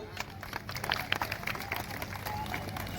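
Crowd applauding at an outdoor wrestling ground in Baramati, Pune district, Maharashtra, with scattered clapping and cheering rising and falling under a steady hubbub of voices.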